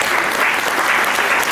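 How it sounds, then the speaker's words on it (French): Steady applause fills a conference hall, a dense even patter of many hands clapping close by for the full stretch with no voices above it. "On peut vous applaudir."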